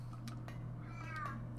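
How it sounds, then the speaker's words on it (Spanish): A sick cat gives a faint, short meow under a low steady hum and scattered clicks in an indoor room. "Tengo el gato malito y está muy pesado hoy."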